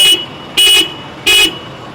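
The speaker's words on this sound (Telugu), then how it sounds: "డ్యూయల్ హార్న్ అయితే ఇచ్చారండి" Three short, loud honks from the dual horn of a Honda CB350 motorcycle, evenly spaced about half a second apart, close by.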